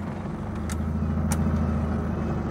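A 2001 Timor DOHC car engine idles steadily at close range, a continuous low rumble with a couple of brief higher clicks, and no talking over it.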